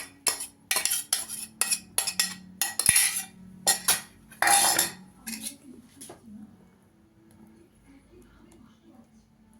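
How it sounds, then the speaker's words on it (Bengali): A spoon scraping and tapping against a pan while spreading an egg and chicken filling for a Mughlai paratha, making a quick run of sharp metallic clinks and scrapes that fade into quiet, with faint background voices. "এবার চামচ দিয়ে ছড়িয়ে দেবো এটা।"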